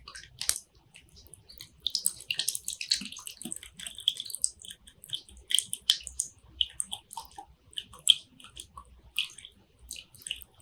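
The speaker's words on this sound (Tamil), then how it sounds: "பாட்டிலில் ஊற்றி இதே மாதிரி கலக்கி விட்டுட்டு ஊற்றுங்க" Homemade Comfort-style fabric conditioner is poured into a bottle and mixed, producing quiet, intermittent sloshes, drips and splashy bursts at close range, uneven in rhythm, with no one speaking.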